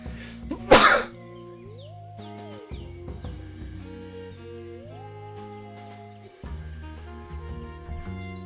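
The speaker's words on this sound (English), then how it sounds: "I just sneezed so hard and it hurt." A single sharp, hard human sneeze bursts out loud and close near the start, followed by light game music with soft melodic tones carrying on underneath.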